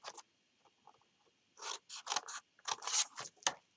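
Scissors snip paper tabs for a Post-it note holder flip box, making a quiet start and then a quick series of close, crisp cuts.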